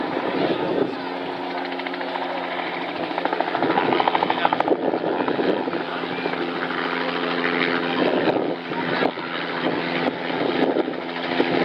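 Loud, continuous helicopter rotor thrum with a pulsing beat as a helicopter arrives at the Southport Air Show 2016, close and dominant throughout, with no voices.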